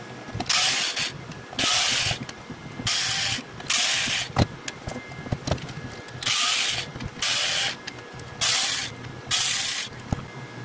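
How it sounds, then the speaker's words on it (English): Screws are backed out of a device casing, likely by a powered screwdriver, in a series of regular whirring, ratcheting bursts about a second long. Small clicks and handling noises fill the gaps. "let's go ahead and take the screws off of the ends of this thing"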